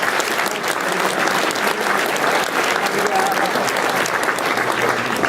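Awards ceremony audience gives a sustained, even round of applause, a steady wash of many hands clapping for several seconds with no break.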